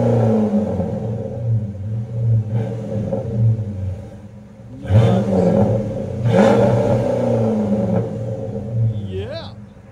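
A 2005 Dodge Magnum R/T with a 5.7L HEMI V8, its rear resonators swapped for glass pack mufflers, idles with a low rumble and then revs in a couple of loud, deep bursts nearby while voices chatter over it.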